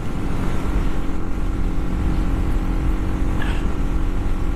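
A 200cc motorcycle being ridden, its engine droning steadily and loud throughout, with a dense, continuous rumble and wind noise and no talk.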